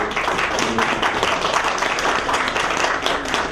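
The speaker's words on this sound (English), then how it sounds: "give Intel a big round of applause" A crowd gives full, loud applause at a memorandum of understanding signing between Intel and a partner, a dense, sustained wash of clapping from many hands with no gaps or talking.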